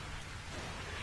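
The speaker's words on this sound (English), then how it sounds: "the puddles of rain hitting the wooden board" Rain patters steadily on a wooden board in a video game, forming a dense, even wash of droplets that stays constant throughout at a moderate, close level.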